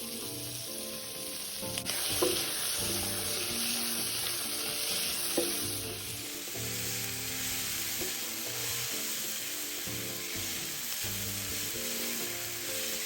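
Lotus root slices and white beech mushrooms are stir-fried over high heat in a wok, producing a loud, continuous sizzle with a few brief clatters, and soft background music plays throughout.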